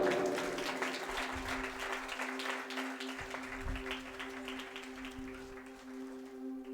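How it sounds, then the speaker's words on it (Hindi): Church audience applauding fathers at a Father's Day service, a dense sustained clapping over a steady musical drone, gradually easing off. "जोरदार अपने पापा के लिए जोरदार ताली बजाएंगे"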